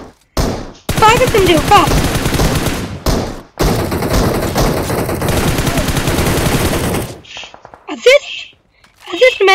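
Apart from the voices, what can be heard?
gunfire in video game BGMI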